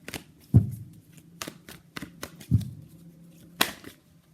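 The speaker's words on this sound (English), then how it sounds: "So let's pull some cards from universe where this connection is headed in near future." Tarot cards are shuffled close and quiet, with several short riffling bursts and soft card slaps at an uneven rhythm in a silent room.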